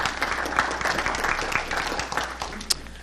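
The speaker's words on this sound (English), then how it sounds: "Let's give her a round of applause and her team also." Applause at a Jefferson City council meeting, a short burst of many people clapping at close range, steady and fairly loud for a few seconds.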